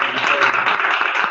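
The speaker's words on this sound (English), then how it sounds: "So let's give the board a round of applause." Audience applause at a community business lunch-and-learn event, a dense, steady patter of clapping from a room of people throughout.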